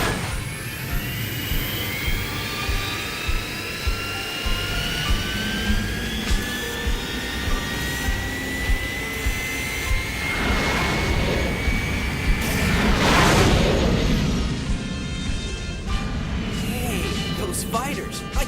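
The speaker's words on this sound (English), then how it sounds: "Those Veritech fighter engines are built on a reactor design." Veritech fighter jets from the Robotech cartoon roar through the air with a sustained engine whine and a rising pitched sweep, swelling into a louder rushing pass near the end.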